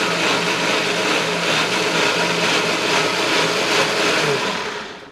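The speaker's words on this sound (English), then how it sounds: "And now we puree it up." Breville blender running steadily as it purees bagel dough, a loud continuous whirring motor roar close by that holds for about five seconds before easing off at the end, with no talking.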